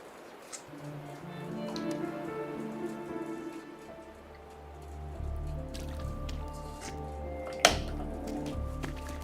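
Rain falling in the game Wuthering Waves, a soft steady patter of drops on surfaces with low ambient music tones underneath and a sharp splash-like hit near the end.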